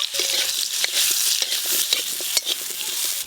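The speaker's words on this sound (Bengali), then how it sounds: "আমগুলো একটু ভালো করে নেড়ে নিয়েছি" Chopped green mango pieces fry and sizzle in spiced oil in a pan while a spoon stirs them, giving a steady loud sizzle broken by frequent scraping taps, close up with no voices.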